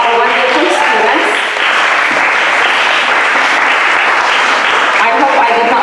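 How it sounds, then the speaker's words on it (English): Audience at a 2019 student showcase gives sustained, dense applause that fills the room, loud and steady throughout. "please give a round of applause to our wonderful students"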